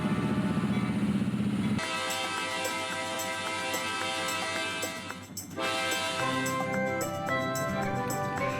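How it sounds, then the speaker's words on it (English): A Norfolk Southern diesel train rumbles along with steady mechanical noise and sustained horn-like tones, loud and close, after a brief lower roar at the start. "the Norfolk Southern diesel and the hospital train set off down the line"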